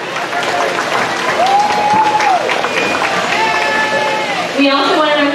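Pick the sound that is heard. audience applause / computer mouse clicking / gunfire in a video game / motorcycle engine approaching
audience applause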